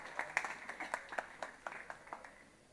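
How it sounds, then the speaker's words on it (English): Audience applause welcoming panel speakers onto a conference stage, a run of moderately distant, fairly sparse claps with irregular rhythm, steady for a few seconds without voices. "Please welcome them to the stage. Big round of applause."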